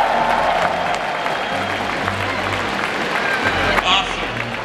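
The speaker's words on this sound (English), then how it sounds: "let's give a big round of applause for the epic 5-game match" An esports crowd at the League of Legends Worlds semifinals applauds and cheers loudly and steadily through the clip, with a host's amplified voice speaking over the clapping.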